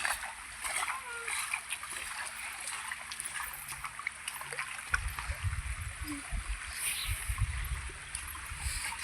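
Water is bailed by hand out of a small rock pool to catch fish, giving repeated splashes and pouring gushes of water close by, with people talking over the sound.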